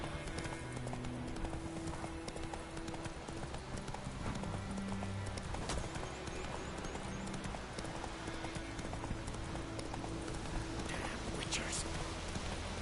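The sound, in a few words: horse Roach trotting in The Witcher 3 video game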